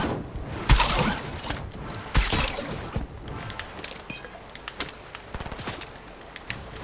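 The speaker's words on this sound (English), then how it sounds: "This guy really shooting me." Fortnite gunfire: several sharp, loud shots at irregular intervals, the strongest cracks near the start, mixed with smaller clicks and in-game clatter, with no talking.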